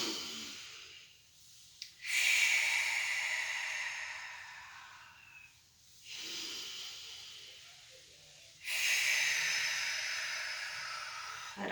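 Slow, deep breaths taken during an upper-body strength exercise session: three long, hissing inhale-exhale swells, each a few seconds, close and clear, separated by brief quiet gaps.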